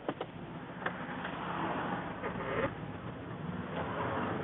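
A small car called Millie on a short drive, heard from inside as a quiet, steady engine hum with soft road noise and no talking.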